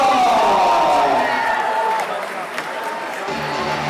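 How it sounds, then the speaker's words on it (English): A school gym crowd at a boys' volleyball spirit night applauds and cheers after a dance club performance, with loud whoops and a clapping roar that gradually eases, and voices mixed through it. "Let's give them a round of applause."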